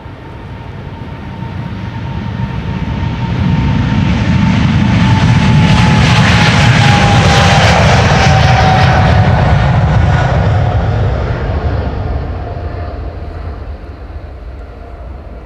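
Jet airliner engines spool up for takeoff at Amsterdam Schiphol, a broad roar building over several seconds to a loud sustained peak, then easing off as the aircraft moves away, with a faint steady whine running through it.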